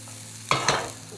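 Pumpkin pieces being mixed with sesame oil and salt, a brief soft scraping and tossing sound lasting under a second, close and quiet.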